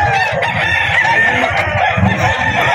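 Gamefowl rooster, a Gilmore Hatch bull stag, crowing loudly and close by in a sustained, strained call that fills the whole moment.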